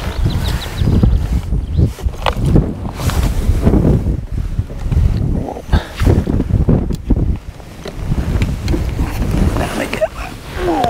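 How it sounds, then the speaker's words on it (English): Strong wind buffets the microphone outdoors beside a fishing lake during a feeder fishing match, a steady low roar with gusts throughout, with people talking over it. "My wind's blowing me."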